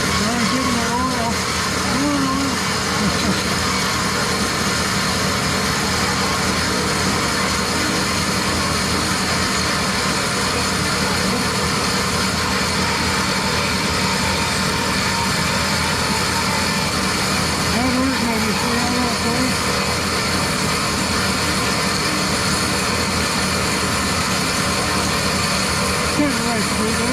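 A saw runs steadily while cutting metal during tool making, oiled by hand rather than with coolant, giving a continuous mechanical hum and whine at a constant level throughout with no clear pauses.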